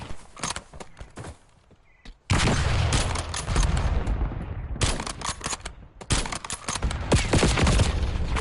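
Full-auto gunfire rattles in Call of Duty: Warzone, long sustained bursts, loud and close, broken by a brief lull near the start and short pauses between strings of shots.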